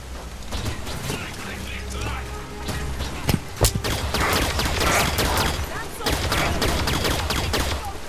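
Halo 5: Guardians gameplay on Xbox One brings loud, rapid bursts of gunfire mixed with mechanical clatter and sharp impacts, almost continuous throughout.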